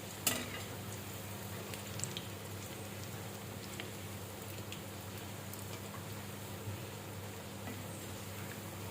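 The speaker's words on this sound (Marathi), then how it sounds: "किती छान आपले हे पालक भाजी तळून होत आहे." Spinach bhaji fritters fry in hot oil with a soft, even crackle that stays faint and steady, with a light clink near the start.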